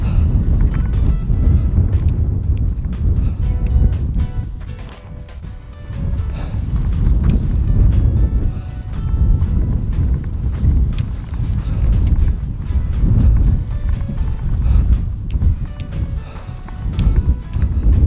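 Strong gusting wind buffets the microphone outdoors at a desert pond, a loud, continuous low roar that swells and eases without pause.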